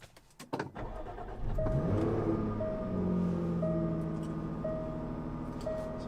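A Jaguar F-Type cranks and fires on a morning cold start, the engine flaring loudly before settling into a steady, elevated idle with a faint repeating chime over it.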